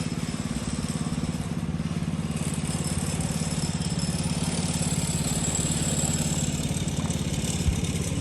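An old Hodaka minibike fitted with a Honda 200 engine runs at a steady idle, its loud, even, close-up drone holding without a pause.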